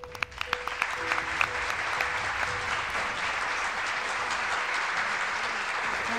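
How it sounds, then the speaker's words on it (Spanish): An audience at the Luxury Awards 2019 gala applauds, steady sustained clapping from a full room with a few sharp claps standing out early on. "¡Fuerte aplauso!"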